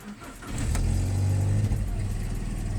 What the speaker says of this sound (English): I can now start the car.